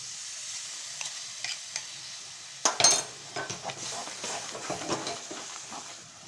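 Crushed tomato puree is stirred into pav bhaji vegetables in a pan, with a quiet sizzle under repeated scraping and clinking of a spoon, including one sharper clatter.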